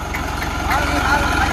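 A tractor engine runs close and loud in a field, with a steady throbbing idle and a slight rise in revs. A voice can be heard under it.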